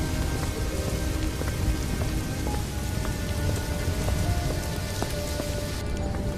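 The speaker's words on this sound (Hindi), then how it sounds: "रास्ते में बहुत जोरों से बारिश शुरू हो जाती है" Heavy rain pouring down on a road at night, a dense, loud, unbroken hiss of drops striking surfaces throughout.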